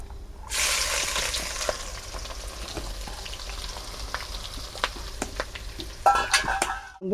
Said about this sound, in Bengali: যতক্ষণ আমার পেঁয়াজ ভাজা হচ্ছে